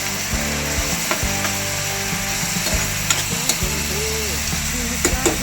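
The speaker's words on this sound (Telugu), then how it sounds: "బాగా బ్రౌన్ కలర్ వచ్చే వరకు ఉల్లిపాయలు మగ్గించుకోవాలి" Onions sautéing in a pan for mutton keema, a steady close sizzle and fry with scraping and stirring clatter from a spoon throughout, a few sharper knocks near the end.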